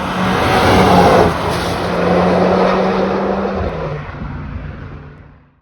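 A new 333 hp Audi S3 engine revving, a loud throaty roar that swells, eases briefly and swells again before fading away, heard alone with no talking.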